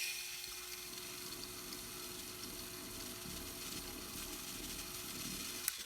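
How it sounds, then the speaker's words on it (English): A small electric eraser whirs against paper, rubbing out a drawn line in a drawing studio, a faint steady high hum with light scrubbing texture and a brief click at the end. "tools I have in my drawing studio is an electric eraser."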